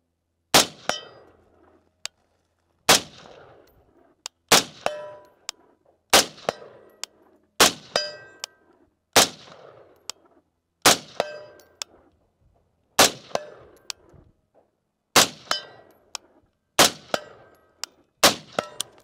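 M4A1 rifle firing ten evenly spaced shots, each sharp report followed by a bright metallic ring from a steel target at 100 yards, with short decaying tails between shots and no talk.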